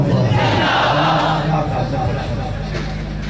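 A large crowd at a religious gathering roars the Takbir chant in unison, a loud, full-throated collective shout that swells at first and then holds as a sustained mass of voices.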